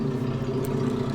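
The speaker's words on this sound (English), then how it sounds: "Do you hear that fucking motorbike, man?" A motorbike engine drones steadily outside, a continuous mid-pitched hum with no talk over it.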